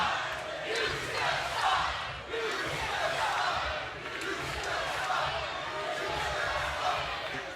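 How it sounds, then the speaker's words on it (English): A wrestling arena crowd chants "You suck" at Josh Alexander in a loud, rhythmic, sustained roar from many voices that fills the whole stretch. "a crowd of people chanting, "You suck," to Josh Alexander"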